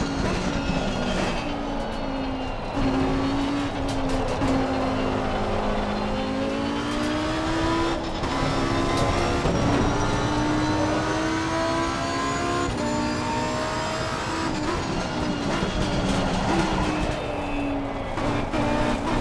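A race car heard from the cockpit view in Assetto Corsa Competizione, its engine revving and shifting through gears with rising and falling whine over steady road roar, loud and continuous throughout.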